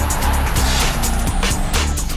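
A third-generation BMW X5 engine pulls hard while driving, a loud, steady drone with rising and falling revs and no break throughout.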